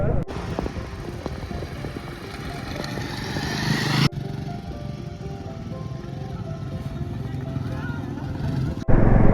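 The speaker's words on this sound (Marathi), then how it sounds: "आपण चालवतो आता हिमालयन 450." A Royal Enfield Himalayan 450 motorcycle being ridden in Pune, its engine a steady close drone throughout with wind rush, and an abrupt shift partway through.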